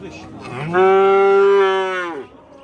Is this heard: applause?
no